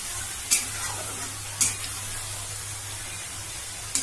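Onions fry in a pan with a steady, close hiss and sizzle, broken by a few sharp spatters or stirring scrapes, with no talk.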